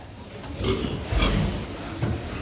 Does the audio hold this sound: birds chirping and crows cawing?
no